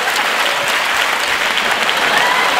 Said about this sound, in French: Ah non, n'applaudissez pas, ça m'encourage.